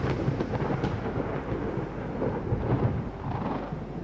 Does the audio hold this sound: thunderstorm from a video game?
yes